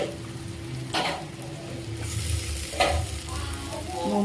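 Onions and tomatoes fry and sizzle in a pan for potato kurma, a steady crackle with soft stirring scrapes and a couple of brief louder bursts, no talking.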